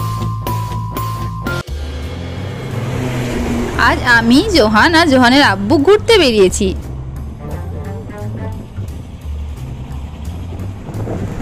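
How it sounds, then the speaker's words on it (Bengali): A motorbike carrying three riders cruises along a road toward Krishnagar, its steady engine drone and wind rush running throughout while someone speaks over it. "বাইক নিয়ে আমরা তিনজন আজকে চলেছি কৃষ্ণনগর।"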